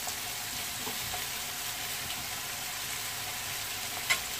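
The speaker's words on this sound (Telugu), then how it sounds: "ఇవి ఇంకొక 2 నిమిషాలు వేయించుకుందాము" Thin strips of carrot and potato fry in a pan for vegetable biryani, giving a steady, dense sizzle throughout with a brief clink near the end, no voices.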